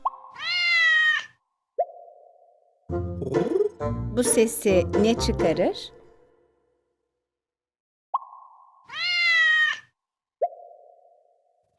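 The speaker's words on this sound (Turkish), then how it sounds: "Bu sesi kedi çıkarır." A cartoon cat meows twice in a children's sound-guessing game, a clear drawn-out meow near the start and another near the end, with a short plopping effect after each and a voice speaking in between.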